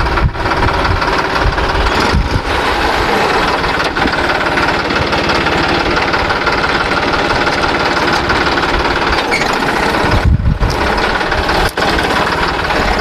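A 58 HP two-wheel-drive heavy-duty tractor pulls a 520 kg hydraulic three-disc plough, its engine a loud, steady, close drone with a knocking beat that runs the whole time with no talk.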